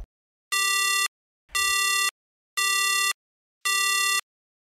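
A telephone busy tone plays after the caller hangs up: four even, steady electronic beeps with silent gaps between them, clear and alone.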